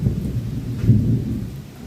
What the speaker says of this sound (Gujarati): ગાજે છે એકદમનો